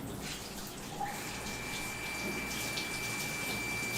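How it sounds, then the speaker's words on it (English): A household water pump running at full blast in a kitchen, producing a steady, dense rushing of flowing water with a faint high whine, continuous and fairly close throughout. "we got the water pump going off full blast there"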